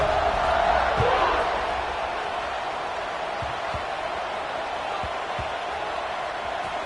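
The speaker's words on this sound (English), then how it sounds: "this crowd is buzzing after that last score" A football stadium crowd roars after a score, a dense, loud wash of cheering that swells at first and then holds steady, with a few sharp thuds rising out of it.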